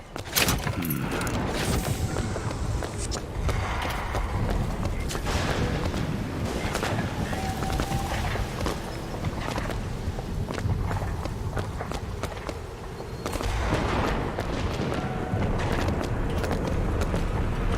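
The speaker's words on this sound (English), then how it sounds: "Someone shot a cannon already" Cannon fire in the video game Bioshock Infinite, heavy booms and blasts layered in dense, continuous battle din with running footsteps, loud throughout with a surge of louder bursts near the end.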